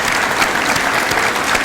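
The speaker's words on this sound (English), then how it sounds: "give everybody a round of applause" A school audience at a Veterans Day celebration applauds in a steady, dense wash of clapping, loud and close, with no voices rising above it.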